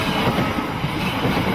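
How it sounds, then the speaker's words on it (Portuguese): A train rumbles past close by, a continuous loud rolling roar of wheels and carriages. "ouvimos o apito de um trem em movimento"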